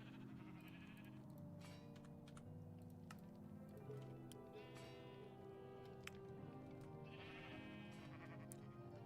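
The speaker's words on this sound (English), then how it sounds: "Oh, these sheep are annoying." Sheep in the video game Minecraft bleat repeatedly at a low level, the wavering calls coming in a few separate bursts alongside sharp computer-keyboard clicks.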